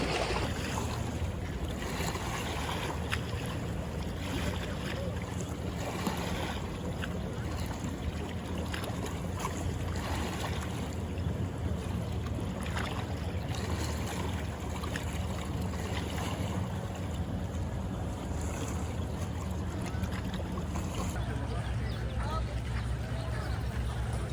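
Waves on Lake Garda at Sirmione, lapping and washing along the shore in a steady, noisy wash mixed with wind, fairly faint and continuous, with a person talking over it at times.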